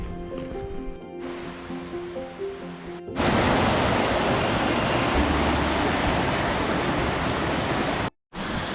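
A river flowing from Rainbow Falls beside a mountain trail in the Great Smoky Mountains rushes as a loud, steady wash. Before it comes a brief stretch of quieter ambience with tonal sounds, and a short dropout occurs near the end.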